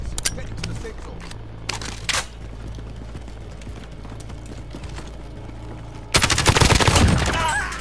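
Video game shooter match with gunfire: scattered distant shots and a burst of loud, rapid firing near the end, over steady game ambience.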